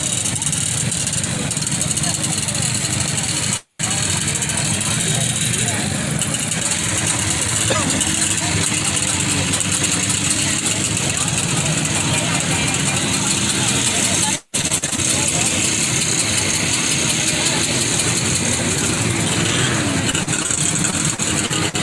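A 1970 Playcat vintage snowmobile, not original, runs steadily at a Washington Snow Flyers vintage event, its engine droning nearly continuously for about twenty seconds with two brief cut-outs, while voices talk over it.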